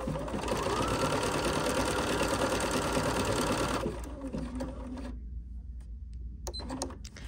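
A Bernina sewing machine stitches a heart pattern in one loud, steady run of nearly four seconds, then stops, leaving quieter mechanical clicks and handling noises.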